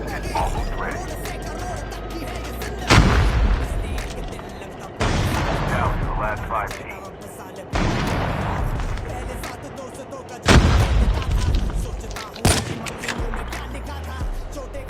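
Gunfire in the mobile shooter COD Mobile comes in several sharp bursts and single heavy shots, spaced a couple of seconds apart, over a steady background of game ambience.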